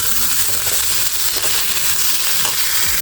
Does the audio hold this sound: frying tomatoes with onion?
yes